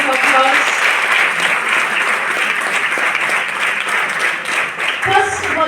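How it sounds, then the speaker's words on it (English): A sustained burst of audience applause at a book release at Mangalore University, many hands clapping steadily and loudly for several seconds, with voices mixed in underneath. "a big round of applause"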